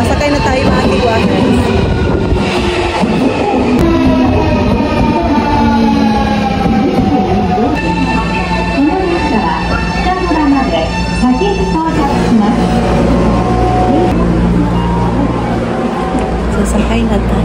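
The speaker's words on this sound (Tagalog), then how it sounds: "Andito na yung train." A train pulls into a station in Japan, a loud sustained rumble with rising and falling tonal whines and squeals from the motors and brakes over continuous platform noise, with people talking nearby.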